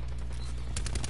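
Rapid automatic gunfire from a multiplayer shooter match, a steady run of sharp bursts growing louder toward the end, with no speech over it.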